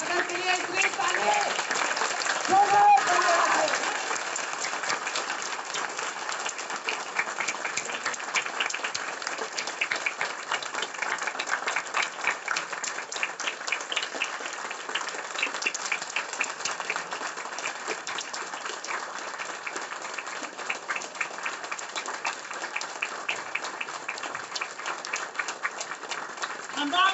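Long, sustained applause from an audience at a motivational event, a thick, even wall of clapping that runs for many seconds with a louder burst near the start and steady crowd noise underneath.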